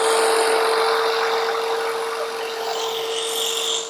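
A jigsaw blade cuts through wood in a loud, continuous buzzing rasp with a steady whine, close up and alone, with no separate knock from the clamp standing out.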